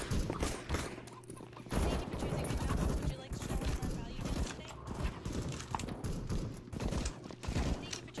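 Gunfire in CS:GO on a custom map, with a dense rattle of rapid shots and bursts running through most of the stretch, fairly loud, as players talk over it.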